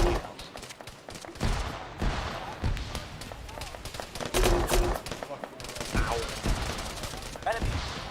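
Arma combat gunfire rattles constantly, with dense automatic bursts and single cracks at varying distances. Voices speak intermittently over the shooting.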